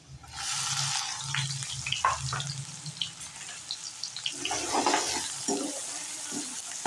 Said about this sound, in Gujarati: તેમાં નાખશું ઝીણા સમારેલા કાંદા.